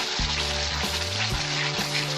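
Spice masala for Katla fish kalia is sautéed slowly over a low flame, making a continuous close sizzle with repeated scraping stirs of a spatula across the pan, no voices.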